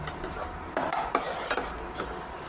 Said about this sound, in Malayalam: ഉപ്പ് ചേർത്ത് നന്നായി ഇളക്കാം